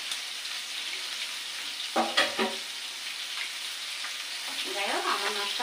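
Tangra fish fry in hot oil with a steady faint sizzling hiss, broken by a few sharp spattering pops, heard at low level without speech.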